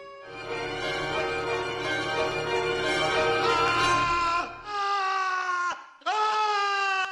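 An actor's loud, sustained anguished scream of terror, with strained, wavering pitch, breaking into shorter cries toward the end, heard alone without speech, from the filming of The Godfather.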